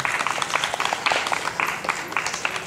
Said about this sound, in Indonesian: Sekarang berikan tepuk tangan untuk kemuliaan nama Tuhan.